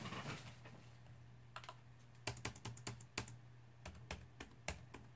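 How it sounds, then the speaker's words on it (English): Fingers tap on a computer keyboard, a quiet cluster of light clicks then a brisker run of separate keystrokes, close and faint over a low steady hum, with no talking. "So we're just typing that into Google"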